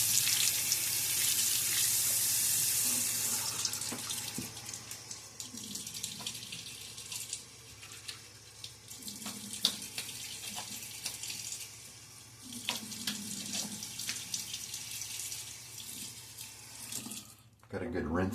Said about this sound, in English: Got a good rinse there.